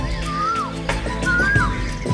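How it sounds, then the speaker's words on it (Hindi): A koel calls in a forest after the first rain, with two clear rising then falling whistled notes about a second apart, close and prominent over a steady low background hum. "कोयल,"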